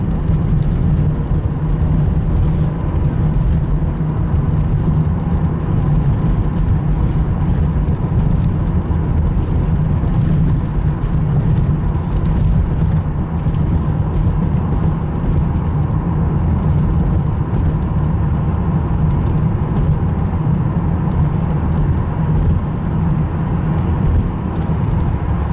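A 1989 Buick Reatta cruising at highway speed, with a steady, loud, unbroken road and engine drone and broadband tire and wind rush throughout, no voices.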